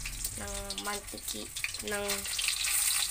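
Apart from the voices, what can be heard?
food frying in hot cooking oil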